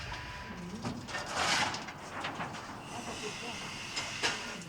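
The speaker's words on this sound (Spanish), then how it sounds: "esta locomotora, declarada monumento histórico, es un curioso testimonio del trabajo del ingeniero André Chapelon" A historic steam locomotive designed by André Chapelon hisses in bursts, with sharp gusts of escaping steam rising and falling amid mechanical rumble and a narrator's voice.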